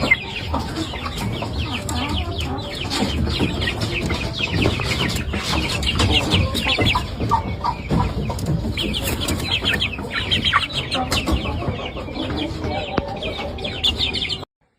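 Shamo and Dakan roosters from the Andijan valley crowing and clucking continuously, several birds close by with overlapping calls and busy chirps under a steady farmyard din.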